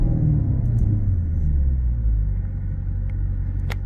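A 2013 Maserati GranTurismo Sport engine rumbles low and steady as it downshifts, a continuous close droning tone with slight shifts in pitch and no voices over it.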